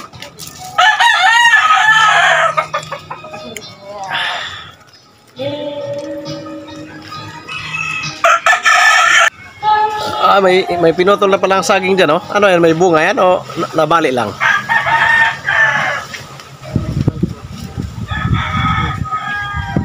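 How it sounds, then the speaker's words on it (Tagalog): Chickens and roosters at a poultry farm in Cavite, crowing and clucking intermittently in the background beneath nearly continuous conversational speech. "dito sa mga alaga natin manok dito sa Cavite"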